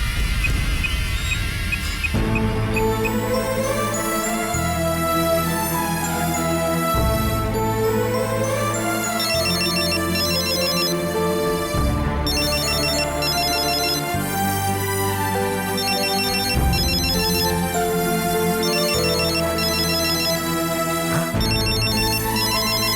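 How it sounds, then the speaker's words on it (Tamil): A mobile phone ringtone plays a loud, continuous melodic tune for incoming calls, repeating in steady phrases with no talking over it. "ஃபோன் மேலே ஃபோன் வந்துக்கிட்டே இருக்கு."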